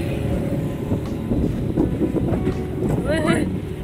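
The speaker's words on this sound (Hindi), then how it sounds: "हवा चल रही है ना।" Wind blowing across open water, a steady gusty rush over a boat's hum, with people talking and a bird calling briefly.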